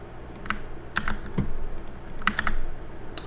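Username and password keys tapped on a computer keyboard, a run of light, irregular clicks in short bursts, close and fairly quiet, with nobody talking.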